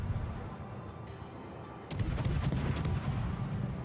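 Naval guns of a French destroyer in World of Warships booming in a rapid, repeated volley, loud and close, with a steady engine and sea rumble underneath.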